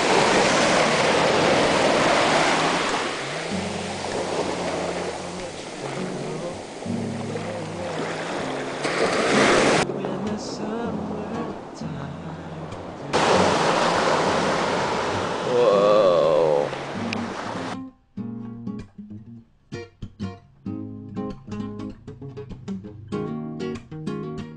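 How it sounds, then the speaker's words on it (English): Ocean waves and surf around Calaguas Island, heard from aboard a boat, loud and rushing with wind buffeting the microphone, then breaking off into a quieter stretch with scattered knocks and splashes. "look at the waves"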